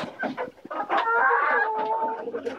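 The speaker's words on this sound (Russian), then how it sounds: "Курочки, петушок." Laying hens, including Hisex, Legbar and Jersey Giant breeds, cluck and squawk up close, with a rooster's drawn-out crowing call rising over the busy clucking of the flock.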